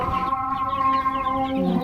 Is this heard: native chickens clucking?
yes